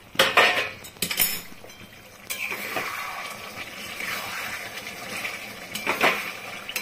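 A metal lid clanks and scrapes as it is lifted off a pot of mutton curry simmering in a kadai, with sharp clinks at the start and again later over a soft, continuous sizzle.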